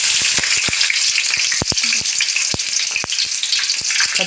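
Onions and mustard seeds fry in hot oil for upma, with a loud, continuous sizzle broken by sharp pops and crackles and a few stirring clicks.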